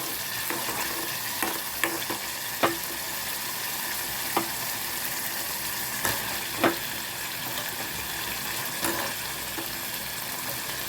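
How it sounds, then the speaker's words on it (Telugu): Veg manchurian balls are stirred into sauce in a frying pan, a constant close sizzle broken by scattered light taps and scrapes of the spoon against the pan. "ఈ విధంగా మంచూరియన్ బాగా కలుపుకోవాలి ఫ్రెండ్స్."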